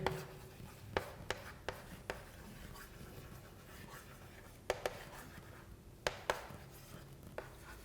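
Chalk or marker tapping and scraping on a board during a physics lecture on neutrinos, with sharp irregular clicks spaced apart over faint room noise, quiet and fairly close.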